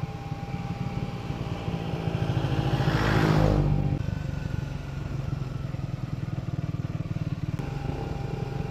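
A motorcycle rides a mountain road between Darjeeling and Siliguri via Mirik. Its steady engine drone stays close throughout, swelling briefly near the middle as another vehicle seems to pass.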